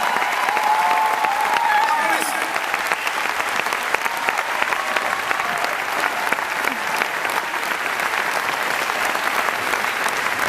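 A concert audience at the Cirque Royal in Brussels applauds the technicians, steady dense clapping filling a large hall, with faint voices and cheers underneath.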